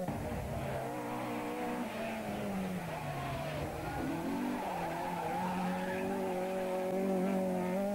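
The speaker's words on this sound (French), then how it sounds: "Autre opéliste convaincu, Rudolf Van Kamp nous gratifie d'un beau passage" An Opel rally car at the 1990 Rallye des Hautes Fagnes slides past, tires skidding and squealing as the engine note rises and falls close by, with no voices.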